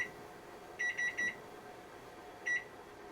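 Kitchen timer being set while cooking edamame, with a group of four quick electronic beeps and then one more beep a moment later, heard over a low hum of kitchen background.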